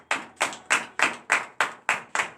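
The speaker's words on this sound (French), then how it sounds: "Donnez l'acclamation à Jésus." A church congregation at a morning prayer service in Benin claps in unison, eight sharp even hand claps in a steady rhythm, close and clear with no voices.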